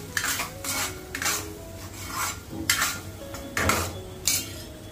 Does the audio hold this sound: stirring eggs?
yes